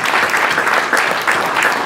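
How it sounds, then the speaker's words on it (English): Steady applause from an audience at a housing association's annual meeting, dense clapping sustained throughout at an even, close level. "Again, a round of applause for their service to TBHA."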